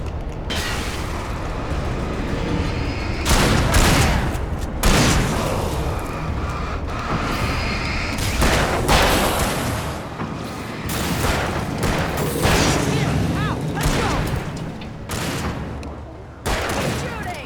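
Heavy gunfire rattles through a tense firefight in the video game Alan Wake, with dense bursts, booming shots and clattering volleys filling the whole stretch loudly, while voices cut in among the shooting.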